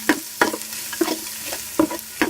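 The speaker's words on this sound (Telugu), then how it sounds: "అల్లం తెల్లగడ్డ పేస్ట్ని కొద్దిసేపు వాడతారు" Ginger garlic paste frying in a pan for egg fried rice, with a close steady sizzle and a run of rhythmic spatula scrapes and taps, about six strokes in quick succession.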